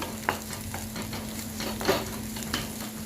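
Egg masala Maggi sizzles steadily in a kadai while a spoon stirs it, with several distinct metallic scrapes and clinks over a constant frying hiss and a low hum.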